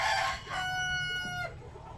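Chickens on an organic poultry farm raising laying hens, with a rooster crowing in one long sustained call over steady background clucking and farmyard noise.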